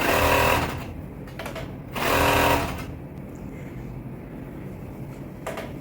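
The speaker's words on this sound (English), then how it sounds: "I'll go back to my overlock and overlock it." An overlock sewing machine stitches a hoodie sleeve seam in two short bursts of rapid whirring, each under a second long, separated by quiet handling noises and a faint final blip.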